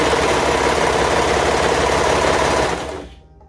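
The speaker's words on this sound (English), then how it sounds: "you're just sewing in a circle here" A sewing machine stitching around a T-shirt romper cuff, running as a loud, steady mechanical whir close by for about three seconds before it stops abruptly, with no talking.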